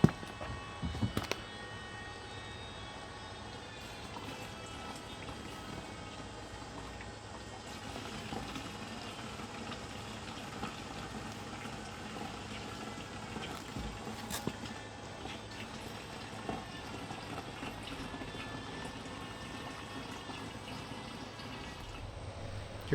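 Gasoline pours from the cap opening of a removed Ariens ST 824 snowblower fuel tank, a faint, steady liquid trickle with small splashes and drips sustained at low level throughout.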